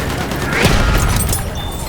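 Machine gun fire rattles across the Somme map in the Battlefield 1 video game, a dense fusillade of rapid shots with a heavier boom in the middle, all within about two seconds.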